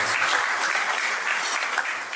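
An audience at a gala dinner applauds its sponsors with a dense, sustained roar of clapping that holds steady and loud throughout.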